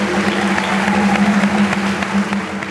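Studio audience applauding on a Thai family-advice talk show, a steady dense wash of clapping over a persistent low hum, fairly loud and continuous throughout.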